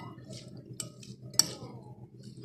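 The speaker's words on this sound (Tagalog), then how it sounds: "I-mix lang po natin." A fresh vegetable salad with zamandar, carrots, bell pepper and herbs is tossed in a bowl with utensils, producing quiet scraping and soft clinks plus one sharper clink, close and faint.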